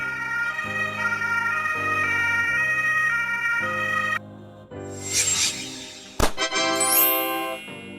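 A European ambulance siren, from a fleet of Mercedes-Benz Sprinter, Volkswagen Crafter and MAN TGE vans, wails loud and close in a repeating two-tone pattern, then shifts to a sweeping tone with a sharp burst.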